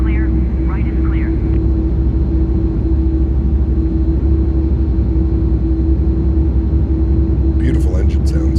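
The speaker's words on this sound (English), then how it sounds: "Beautiful engine sounds." Jet engines of an iniBuilds A300 freighter in Microsoft Flight Simulator, heard as a steady, loud low rumble and whine holding throughout, with brief higher chirps near the start and end.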